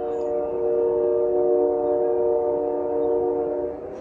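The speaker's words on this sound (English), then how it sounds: "It's a loud train." A loud train passes close by at blue hour, a steady horn-like harmonic drone with rumbling wheels that holds strong throughout before easing slightly at the end.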